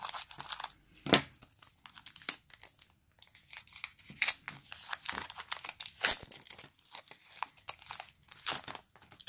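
A Pokémon card booster pack being opened with small scissors: close crinkling and crunching of foil wrapper with sharp tearing bursts, irregular and continuous, with no voices.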